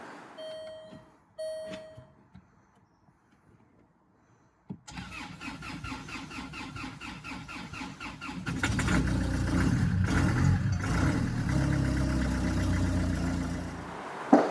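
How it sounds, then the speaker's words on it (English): A Land Rover Freelander diesel cranks slowly in cold weather around minus two degrees: a short electronic chime, then a long labored starter churn that finally catches and settles into a louder, rough diesel idle. "here's a clip now of the vehicle starting at, I think it was about -2 the other morning, and it was a bit slow, but it did fire up"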